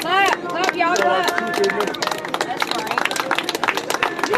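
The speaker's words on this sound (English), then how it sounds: "Clap, y'all clap" Crowd at an outdoor Black Lives Matter protest on July 4th clapping and murmuring, a dense wash of claps and voices under continuous loud talk over the gathering.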